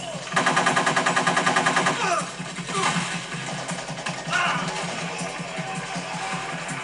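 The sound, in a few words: gunfire in Metal Gear Solid 3 video game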